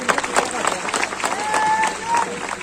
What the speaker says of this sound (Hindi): मैं गुजारिश करता हूं कि तालियों से एक बार भरपूर तालियों से स्वागत किया जाए।